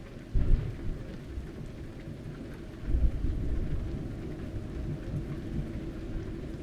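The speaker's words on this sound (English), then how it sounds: "That thunder sounds great, isn't it?" Euro Truck Simulator 2 thunder rolls in low, rumbling booms amid steady rain, with one swell near the start and a longer peal partway through.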